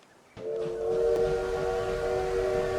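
Steam train whistle from the strategy game Victoria 3, a sustained tonal blast that starts abruptly and holds steady, clear and fairly loud, no talk.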